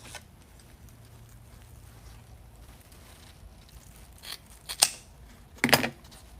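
Scissors snip through deco mesh ribbon for a spring Easter wreath, giving two sharp, close cuts near the end after a quiet stretch of faint room noise.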